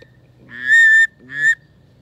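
A person's mouth whistle imitating a goose honk, two strong tonal honks close by, the second shorter, over a low steady hum.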